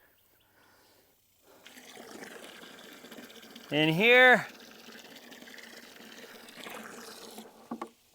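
Water runs steadily from a hose on a farm, a soft broadband hiss lasting several seconds, with a brief spoken voice over it.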